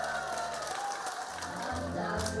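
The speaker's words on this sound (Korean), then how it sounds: "모두가 한마음으로 축제를 즐기는 가운데 유덕열 구청장도 흥에 겨워 박수로 박자를 맞춰봅니다." An outdoor neighbourhood festival crowd claps along with music, soft scattered applause sitting under a tonal performance and low thumping beats, fairly distant and quiet.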